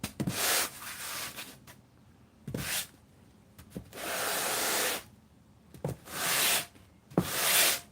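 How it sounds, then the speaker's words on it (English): A foam core for a model is hand-sanded with a sanding bar, making repeated soft, hissing rasps in long strokes separated by brief pauses, close and fairly quiet. "when I'm sanding this core, I'm sanding pretty much with just the weight of the sanding bar."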